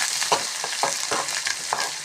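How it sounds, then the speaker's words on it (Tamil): Curry leaves sautéed with onion and garlic in a pan, making a sizzle with a quick rhythmic scraping of a spatula repeated about five times. The sound is close and clear and there is no talking. "இப்போ இதை சேர்த்து நல்லா வதக்கணும்."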